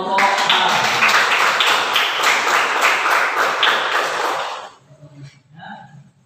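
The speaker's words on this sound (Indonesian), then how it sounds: "Tepuk tangan untuk kelompok A." A university science-education class claps for a student group after its presentation. The applause is loud and sustained for about four seconds, then fades quickly into near silence with a few scattered sounds.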